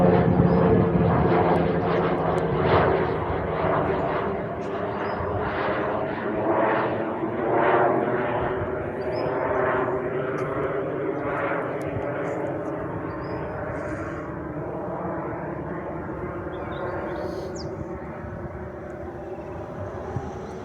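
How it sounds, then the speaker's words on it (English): An Australian Pilatus PC-21 turboprop training aircraft flies past, its loud, steady engine and propeller roar filling all twenty seconds, with tones that slowly bend in pitch as it passes and then gradually ease off. "And an Aussie PC21 returning from training."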